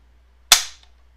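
A Rave 140 drop-in rifle trigger breaks with one sharp, loud click as it is pulled with a pull gauge, a single close snap that fades quickly into silence.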